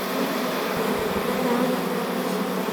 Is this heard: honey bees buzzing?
yes